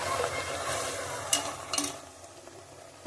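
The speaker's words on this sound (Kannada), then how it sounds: "ಸ್ವಲ್ಪ ಚೆನ್ನಾಗಿ ತಿರುಗಿಸ್ಕೊಳ್ಳಿ" Freshly ground wet masala is stirred and scraped in a hot pan for country chicken sambar, soft sizzling with a few louder scraping strokes close by.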